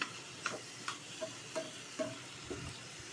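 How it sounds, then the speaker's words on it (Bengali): Quiet sizzling of spices frying in a pan, punctuated by regular light taps and scrapes of a spoon stirring every half second or so. "ভালো করে মশলাটাকে ভেজে নেবো"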